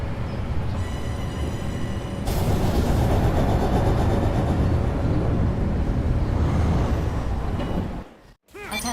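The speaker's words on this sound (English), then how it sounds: "The train has arrived." A train rolls into a station in a video game with a loud, continuous rumble and rattling rail noise that swells midway, then cuts off abruptly near the end.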